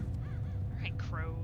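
Crows cawing in the Mark of the Ninja video game, a few short harsh calls standing out over a low background hum, with a brief bit of speech mixed in.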